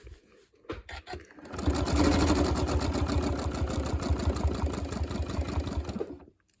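A quilting sewing machine stitches while tracing letters on a T-shirt quilt: a close, steady, fast mechanical whir and rapid needle chatter that starts up after a few scattered clicks and runs continuously before stopping.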